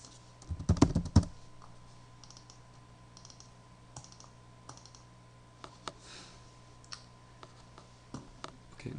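A computer mouse double-clicks repeatedly while sprites are added, giving sharp, sparse clicks at irregular intervals, with a louder cluster of clicks near the start over a quiet electrical hum.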